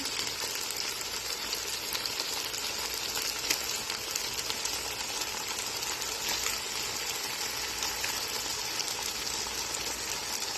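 Chicken pieces fry in a pan for biryani, giving a steady, even sizzle that holds at a moderate level throughout with no voices.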